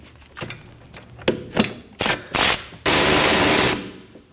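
Ratchet clicking in short separate bursts as bolts come out of a 2011-2016 Kia Optima rear brake, followed by a longer, louder continuous rattle of spinning, close and without talk.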